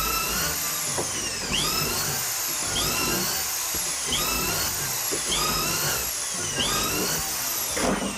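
A power drill bores holes in timber stiles held in an Ozzie multi-jig, the motor whining steadily with repeated rising and falling pitch sweeps as each bit bites and frees, close and loud with no talk.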